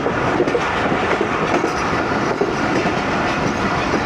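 Train rolling straight through a former stop near Sheikhupura without halting, a loud, steady close-up rumble of railcars with faint rhythmic clickety-clack throughout.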